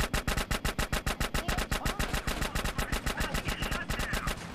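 Rapid, evenly spaced pistol gunshots fire in a steady burst of about thirty sharp cracks in the video game GTA San Andreas, loud and close with no talking.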